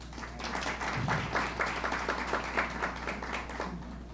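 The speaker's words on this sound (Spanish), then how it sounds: "Un aplauso para él." Audience applause at a science event, a moderate burst of clapping from a seated crowd over a low steady hum, fairly even and lasting several seconds.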